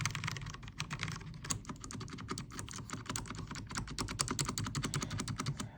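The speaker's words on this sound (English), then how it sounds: "This is one of the linear switches, and that's how it sounds." Rapid, fairly quiet typing clatters on an Alienware 510K mechanical keyboard with linear switches, a dense, continuous run of keystrokes heard alone.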